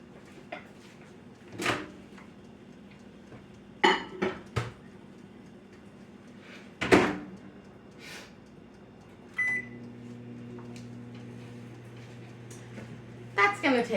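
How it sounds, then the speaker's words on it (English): Food going into a microwave oven: scattered knocks and clunks of the door and dish, a couple of beeps, then the low steady hum of the running microwave, with a voice speaking nearby. "So let me get this into the microwave."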